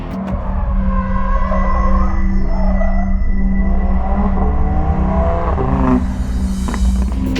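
An Audi R8 is driven hard along an empty winding road, its engine droning loud and steady with pitch rising and falling through gear changes and corners, heard from inside or close by.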